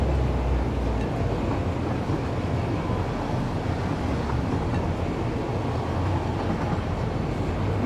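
A train running in the video game Satisfactory, a steady, loud rumble of rolling wheels and motion noise with no pauses or distinct events, heard alone without talk.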